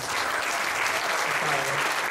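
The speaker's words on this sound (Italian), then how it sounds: "io farei un grande applauso" Audience applause for Paolo at a singing duet event, a steady wash of clapping filling the room without pause, fairly loud and even throughout.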